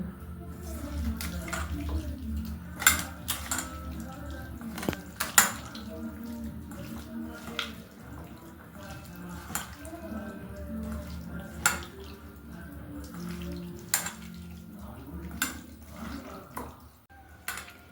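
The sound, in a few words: mixing prawns in a bowl by hand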